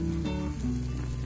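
Oat pizza batter frying in a pan over medium heat, giving a steady, close sizzle with a faint crackle throughout and no voices.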